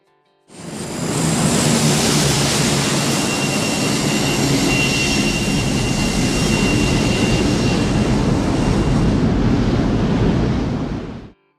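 F-14 Tomcat jet engines on an aircraft carrier flight deck give a loud, continuous roar with a high whine, fading in and out at the edges with no voices.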